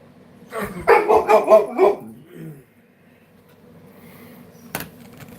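A dog barks five times in a quick, close, loud burst, then falls quiet. Low background noise follows, broken by one sharp knock near the end.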